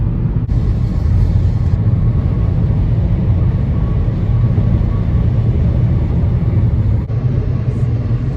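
Inside a moving car, a constant low rumble of road and engine vibration dominates, steady and loud throughout, with a faint higher hiss above it and no voices.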